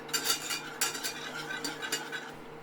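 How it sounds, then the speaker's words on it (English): Butter melting in a pan over very gentle heat for a white sauce, stirred steadily with a utensil, giving soft scraping and light clinks over a low sizzle, close and fairly quiet. "So melt it over a very gentle heat and keep stirring."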